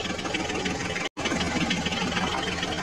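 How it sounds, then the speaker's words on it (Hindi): A tractor engine runs steadily with a broad, rough mechanical drone, close and loud throughout, broken by one brief cut. "हम अपनी ट्रैक्टर गाड़ी को लेकर जा रहे हैं तालाब के पास"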